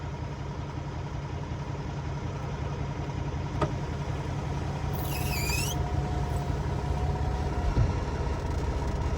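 A semi truck tractor engine left idling, a steady close low rumble that runs unbroken throughout with no talk.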